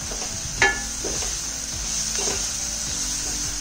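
Onions and ginger-garlic paste frying in oil in a pan for a vegan keema, a steady sizzle running throughout with a few stirring clinks and scrapes of a utensil against the pan.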